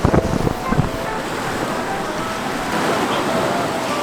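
Steady wind and ocean surf on a coast at dusk, a continuous broad roar with some low gusty buffeting at the start, close and loud, no talk.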